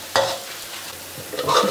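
Basil omelette with minced pork frying in oil in a pan, a spatula scraping and turning it amid a lively close sizzle, with a couple of distinct strokes over a short stretch.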